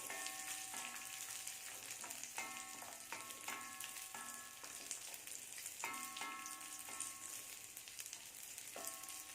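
Coconut-and-sugar stuffing for Malabar unnakkaya roasting in a pan, a steady close sizzle broken by repeated clinks and scrapes of a spoon stirring against the metal, with no talk.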